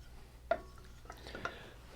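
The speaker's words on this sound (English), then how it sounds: "Just going to stir that in there." Vanilla being stirred into a melted mixture in a pot, giving a few faint scrapes and two soft knocks of a utensil against the side, quiet and close.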